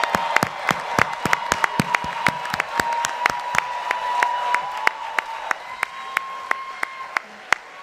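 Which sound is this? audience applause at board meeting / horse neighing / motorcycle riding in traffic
audience applause at board meeting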